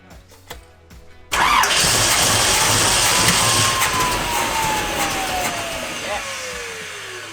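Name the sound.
engine cranking and starting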